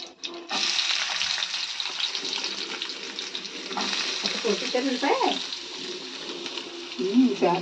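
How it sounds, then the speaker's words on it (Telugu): Onion pieces frying with cumin and mustard seeds for gongura curry make a steady, close sizzle and hiss, and a voice speaks briefly near the end. "ఉల్లిపాయ ముక్కలు వేసి వేగించేసాం"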